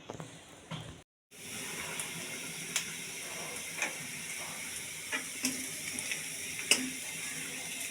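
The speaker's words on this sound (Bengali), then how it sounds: "এখানে যে অফ ক্যামেরায় রসুন আর পেঁয়াজ তেলে ভেজে নিচ্ছি" Garlic and onion frying in oil in a pan, a steady close sizzle with small pops and occasional stirring clicks, preceded by a brief cut to silence, with no talk.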